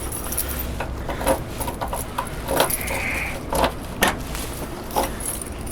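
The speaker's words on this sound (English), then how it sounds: "Let's grab the keys and we'll get in the trunk." Car keys jangling near a 1966 Plymouth Satellite Hemi, several bright metallic clinks scattered across a few seconds amid light handling noise, with no talk.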